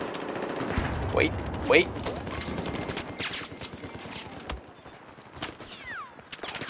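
Battlefield 4 gameplay gunfire, with rapid bursts of automatic weapons crackling densely all around, some shots nearer and louder, while a player shouts briefly over the shooting.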